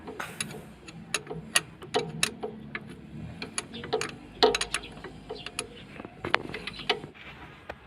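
A ratchet wrench clicks in quick irregular bursts while tightening the second alternator mounting bolt on a car, close and fairly quiet, with some light mechanical clatter between strokes.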